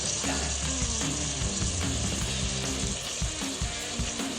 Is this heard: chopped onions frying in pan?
yes